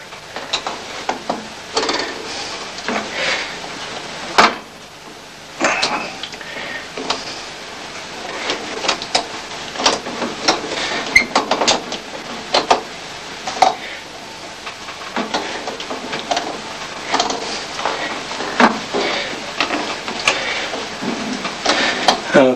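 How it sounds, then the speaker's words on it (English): Clamps are slowly tightened on a bent violin plate, with scattered small clicks, taps and creaks arriving irregularly and close against a quiet background. "we'll slowly start to tighten the clamps"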